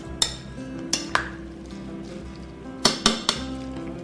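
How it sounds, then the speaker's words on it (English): Pineapple salsa is tossed in a bowl, giving a few sharp clinks of a utensil against the bowl in irregular bursts, close and fairly loud, with no talking. "We're going to start with some salsa and give that salsa a little toss."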